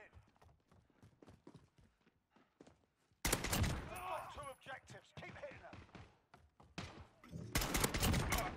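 Gunfire from an SKS rifle in a Call of Duty Modern Warfare match: after quiet talk, a loud burst of game shooting and action noise erupts and continues, with another loud burst at the end, mixed with a player's voice.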